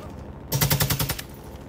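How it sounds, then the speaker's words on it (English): A quick, loud automatic burst of about half a dozen gunshots in Call of Duty: Modern Warfare 2, rattling rhythmically for under a second over faint game ambience. "Shot him in the face."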